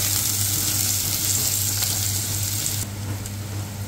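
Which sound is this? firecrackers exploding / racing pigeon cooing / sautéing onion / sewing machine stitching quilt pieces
sautéing onion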